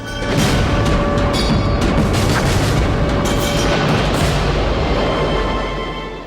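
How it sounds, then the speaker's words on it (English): Naval gunfire from a British warship squadron opening up at full force on German ships, a sustained loud roaring rumble of heavy guns with no separate distinct shots, dense and close with no voices. "The Germans sailed right into the impressive British squadron, which opened fire with all its might."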